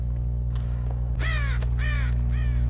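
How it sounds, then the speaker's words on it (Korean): Crows caw in the mobile version of the video game Dead by Daylight: three loud, harsh calls in quick succession over a constant low game hum, with no voices. "까마귀 날리지 마. 쟤네 되게 시끄러워."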